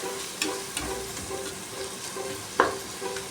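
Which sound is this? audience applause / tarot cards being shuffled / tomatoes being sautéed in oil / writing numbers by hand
tomatoes being sautéed in oil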